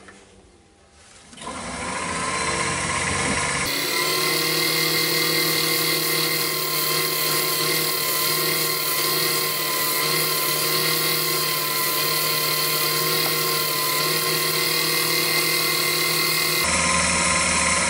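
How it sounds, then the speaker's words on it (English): A lathe spins with a steady whine while 120-grit sandpaper is held to turning wood, a continuous loud grinding hum that shifts pitch partway through. "So I'm going to start sanding at 120."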